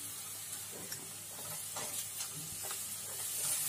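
Capsicum pieces fry with softened onions and curry leaves in a pan, giving a steady close sizzle with light stirring scrapes and a faint hiss throughout, no talking.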